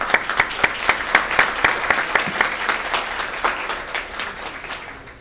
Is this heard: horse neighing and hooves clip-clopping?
no